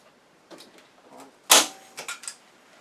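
A sharp, crisp snap of a stapler punching through material while making a wooden kitchen spatula, followed by a few softer clicks and taps close by.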